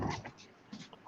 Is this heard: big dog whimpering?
yes